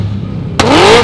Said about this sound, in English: It's a straight rev off right now.